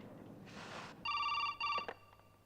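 A telephone rings in two clear electronic bursts, the first longer and the second cut short, loud and close after a brief breathy rustle.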